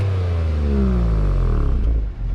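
A 2022 Genesis G70 Sport Prestige with a variable tone exhaust set to comfort mode revs up, a loud close engine note rising in pitch and then falling away toward the end.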